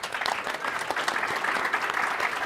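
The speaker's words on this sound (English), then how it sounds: "Can I have just like a little round of applause for Anne?" Conference audience at the BlueHat security event gives a short round of applause, dense steady clapping from many hands across the room, fairly close and continuous without speech.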